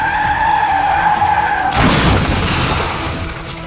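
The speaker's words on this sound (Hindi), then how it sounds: "राजीव की बाइक पीछे से आ रहे ट्रक से क्रैश हो जाती है।" A motorbike skids with a sustained tire squeal, then crashes into a truck in a sudden loud burst of impact and shattering debris that slowly fades.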